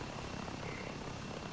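A VTOL aircraft engine in the video game ArmA 3 drones steadily at high throttle, a constant dense roar with no pauses and no voices.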